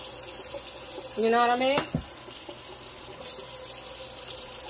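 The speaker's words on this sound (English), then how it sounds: "I'm going to go ahead and rinse them off. Wash them with some more salt water." Tap water runs into a kitchen sink while pig feet are rinsed, a steady splashing flow that swells briefly, interrupted by a short tonal squeak, with a voice speaking over it.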